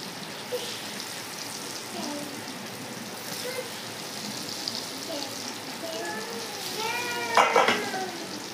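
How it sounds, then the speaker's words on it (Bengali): Pieces of dhokar dalna, a lentil cake, fry in hot oil in a wok with a continuous soft sizzle, and a sharper burst of crackling flares up near the end. "আমি ঢোকার ডালনাগুলো ফ্রাই করার জন্য কড়াইতে দিয়ে দিচ্ছি তেল"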